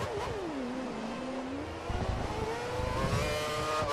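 An F1 race car from a 2014 F1 mod game accelerates out of the harbour chicane at Monaco, its engine note climbing steadily in pitch, loud and close throughout with no talk.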